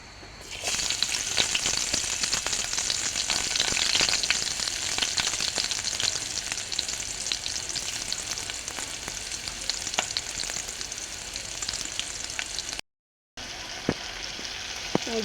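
Shrimp and onion fry hard in a pan, giving a loud, dense, unbroken sizzle with scattered crackles and a brief cut-out near the end, with no talking.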